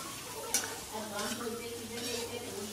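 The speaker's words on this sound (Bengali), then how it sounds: "এই যে কাঁচা লঙ্কা পেঁয়াজ কুচি দিয়ে ফোড়ন করে নিলাম" Soft sizzling of green chilies and chopped onion frying in oil, with occasional stirring and light clinks of a utensil, fairly quiet and steady.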